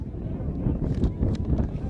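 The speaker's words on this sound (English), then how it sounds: "Windy up here, Ed." Low, rumbling wind buffets the microphone in steady gusts at a high school football game, with muffled talk faintly mixed in.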